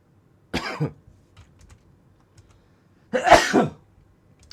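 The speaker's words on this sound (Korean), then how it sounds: "재채기 나올라 그래" Two separate bursts, each like a sneeze or cough, come from someone commentating on football betting picks. The second burst is louder and fuller, and quiet room noise lies between them.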